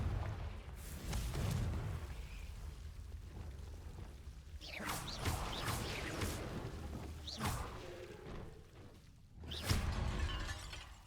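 Blasting-spell explosions from Confringo in Hogwarts Legacy, a series of whooshing bursts and shattering booms spread over about ten seconds at moderate loudness, with no speech.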